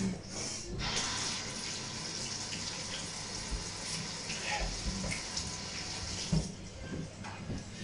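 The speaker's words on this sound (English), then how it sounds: "Wash your hands." Water runs steadily from a tap while hands are washed, a continuous close splashing hiss that shifts a little as the hands move through the stream, with no talking.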